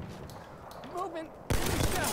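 Machine gun fire in Battlefield 1, a sustained burst that jumps to loud, dense rattling halfway through, with a voice talking over the earlier quieter part.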